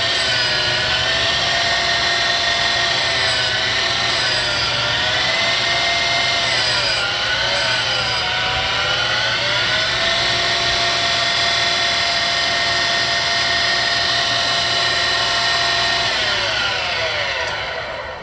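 A Boyar Schultz 3/4 HP 6 x 12 inch surface grinder runs continuously, loud and close, with a steady motor hum and grinding whine whose pitch sags and recovers several times as a too-deep cut bogs the motor, without any talk.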